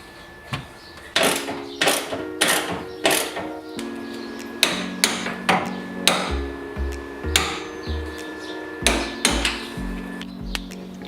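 A torque wrench tightens the roll cage mounting bolts on a Mazda MX-5, giving a string of sharp metallic clicks and knocks in an uneven rhythm, close by in a quiet workshop.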